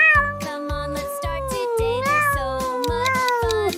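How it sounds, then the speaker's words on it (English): A cat meows over and over through a bright, bouncy children's song, with a voice singing along throughout. "It's a cat."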